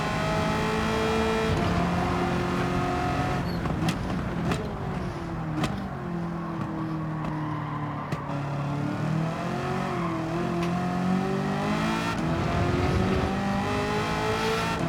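Race car in Gran Turismo 7 driving hard, a steady, loud engine note with rising and falling pitch as it exits a corner, shifting gears with brief clicks, continuous throughout with no talk.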